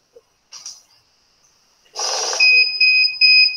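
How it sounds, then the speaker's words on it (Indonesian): A money counting machine riffles briefly through rupiah banknotes, then stops on a counterfeit 50,000-rupiah note and sounds a loud, close, high-pitched electronic alarm in three steady beeps. "mesin ini akan berhenti dan akan memberi tanda berupa bunyi tak atau alarm"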